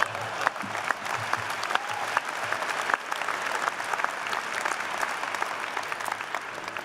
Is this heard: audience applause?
yes